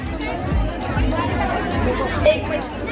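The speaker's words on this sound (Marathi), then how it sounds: "अशी गर्दी आहे" Crowd chatter at an agritourism water park event in Malgaon, a close, steady murmur of many voices with nearby talk over it for a few seconds.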